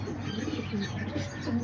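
A young homing pigeon coos softly in a low, steady murmur at close range, with faint chirps mixed in and no one speaking.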